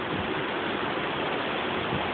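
Steady, hissing hurricane rain runs on house gutters during Hurricane Irene at Camp Lejeune, Jacksonville, North Carolina, a continuous, even wash of water noise with no pauses.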